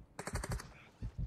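Gunfire in the DMZ video game: a quick burst of about six rapid automatic shots, followed by two more separate reports, sharp and fairly close.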